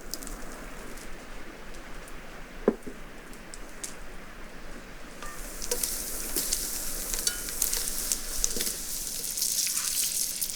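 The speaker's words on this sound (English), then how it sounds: "just listen to those eggplants sizzling in the batter" Battered eggplant pieces fry in hot oil outdoors in the mountains, a soft crackle that swells into a loud, dense sizzle halfway through, with a few sharp pops and no voices.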